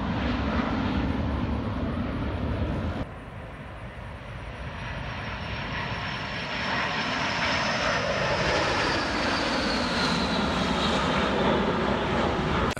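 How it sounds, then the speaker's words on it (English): Blue Angels jets fly in formation over Virginia Beach, a loud sustained engine roar that swells and sweeps past overhead, dipping briefly before building again, with no voices. "This sighting of Blue Angels flying in formation over Virginia Beach."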